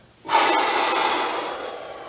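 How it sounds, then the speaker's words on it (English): A single steady exhale during a martial arts beginner class breathing exercise, a close, airy rush of breath that starts abruptly and holds for nearly two seconds, slowly fading. "Very good. Breathing."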